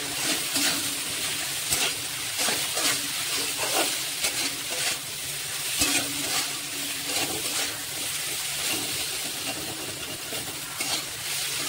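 Ginger and green chili paste sautéing in a hot pan for a home-style Bengali fish dish, with a steady close sizzle and occasional scrapes from stirring; no one speaks.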